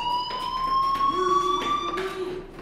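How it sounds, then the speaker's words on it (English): A steady electronic fire alarm tone rings in the video game Life is Strange, holding a constant loud pitch while a lower buzzing tone comes and goes beneath it. "Hey, do you hear that fire alarm?"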